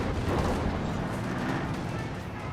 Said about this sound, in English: Great shot there from the Panzer IV.